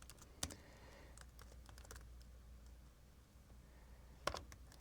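Quiet computer keyboard typing, a few faint scattered key clicks with two sharper taps, heard alone against low room hum.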